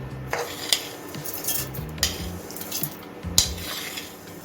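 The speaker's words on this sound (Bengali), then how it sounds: "একটা মিক্সিং জারে আমি চালটা দিয়ে দিচ্ছি" Gobindobhog rice, about 200 grams, tipped into a mixer grinder jar, giving quiet clinks and light rattling taps spread over a few seconds.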